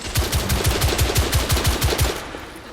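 Automatic gunfire from The Order: 1886 rattles in a rapid, evenly spaced burst of about a dozen loud, close shots, then fades into a brief tail.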